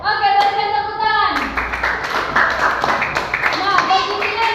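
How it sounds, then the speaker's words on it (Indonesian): A class of children claps hands together in a quick burst of fairly close applause, with voices talking at the start. "berikan tepuk tangan"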